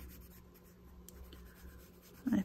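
Pencil crayons scratching across paper while colouring, soft steady rubbing strokes at low level, ending in a brief louder scrape.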